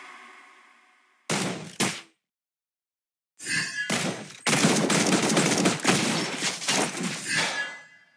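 Video game gunfire hitting a turret under attack, with short bursts and then sustained rapid volleys of loud, close shots mixed with impacts and crashes, broken by brief silent gaps.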